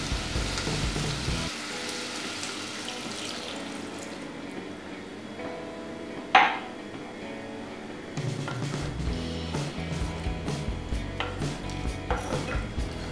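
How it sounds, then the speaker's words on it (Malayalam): Second coconut milk is poured into a Kerala vegetable stew cooking in a pan. A bubbling sizzle drops to a softer simmer as the liquid goes in, with one sharp utensil clink, then the bubbling rises again. "നമുക്കിതിലേക്ക് ഇനി 2-ാം പാല് ചേർക്കാം."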